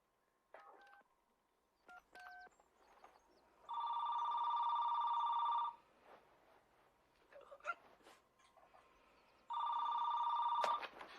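A telephone in a scene from the film Serial Mother: keypad dialing beeps come first, then two long bursts of loud electronic ringing separated by a quieter gap with small clicks.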